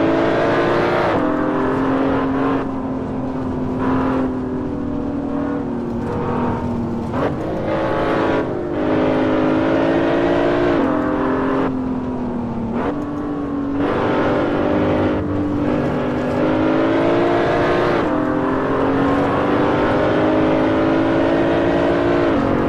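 BMW Z4 engine in a racing video game on the Nordschleife, revving loudly with rising and falling pitch through repeated downshifts and gear changes, continuous and close.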